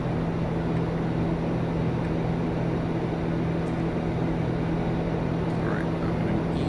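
A TBM 900 turboprop climbing toward 13,000 feet in the X-Plane 11 flight simulator, heard as a steady, loud, unbroken engine drone with a constant low hum and even cabin noise throughout.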